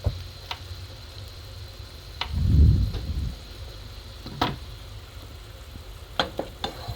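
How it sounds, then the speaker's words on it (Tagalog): Fried pork chops dropped into a pan of creamy mushroom sauce, a soft sizzle and bubbling with occasional ticks and clinks of a utensil, fairly quiet and without talk. "saka natin ilagay ang ating pinirito kanina na mga pork chop"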